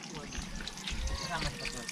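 Spring water trickles and pours through a channel of split, joined bamboo halves, a continuous close gurgling flow beneath someone talking.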